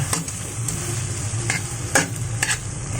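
Onions sauté in a pan for sisig with a constant dense sizzle, punctuated by several sharp stirring scrapes at irregular intervals, close and alone.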